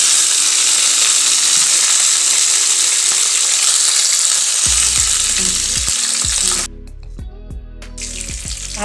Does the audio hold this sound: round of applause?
no